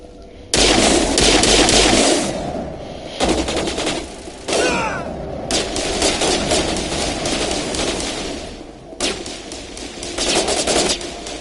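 Loud bursts of automatic gunfire from a Mass Effect firefight, several long sustained volleys separated by brief pauses, close and dominating with no talking.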